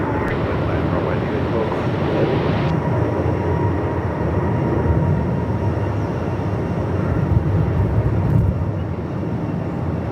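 A Qantas airliner comes in to land at Melbourne Airport in strong gusty wind, its engines a loud, steady broadband roar that persists throughout with no break.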